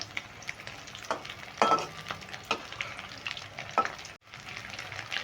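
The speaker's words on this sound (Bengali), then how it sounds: "এদিকে আমি ভাজতে দিয়েছি" Steamed egg pieces fry in hot oil in a pan, a steady close sizzle broken by a few sharp clinks and scrapes of a utensil against the pan, with a brief hush near the end.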